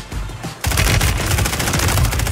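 Rapid automatic gunfire from a fast-firing weapon in the Call of Duty Warzone (Modern Warfare III era) video game, a sustained loud burst of dense shots kicking in after a brief quieter lead-in.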